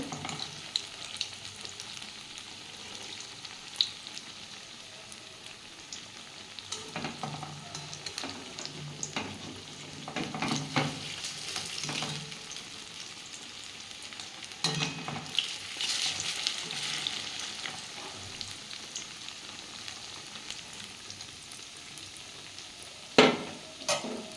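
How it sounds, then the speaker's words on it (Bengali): Leftover-rice pakoras deep-fry in a pan of oil with a steady, soft crackling sizzle. Occasional stirring and louder bubbling bursts rise through the run, and no voice is heard. "দেখুন বন্ধুরা আমি লাল লাল করে এগুলো ভেজে নিচ্ছি"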